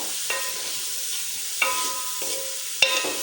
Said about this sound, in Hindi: अब इसको अच्छी तरह से हम भुनाई करेंगे इसकी। जल्दी जल्दी इसको मिक्स करना होता है वरना नीचे से मसाला जल जाएगा।